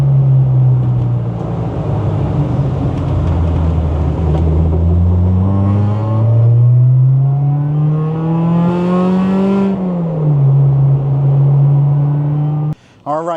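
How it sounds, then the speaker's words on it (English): A supercharged B18C-powered 1993 Honda Civic fitted with a Spoon Sports B16 race transmission drives from inside the car. Loud engine drone rises and falls through the gears with a whining gear tone, ending in a brief cut. "you guys got to see us take a drive in this car with the new B16 spoon transmission"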